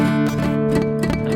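Muffled guitar notes on a beginner piece, played with fretting fingers pressed flat so they damp neighbouring strings. Dull strums come in a quick, uneven rhythm, close and steady, with no talking.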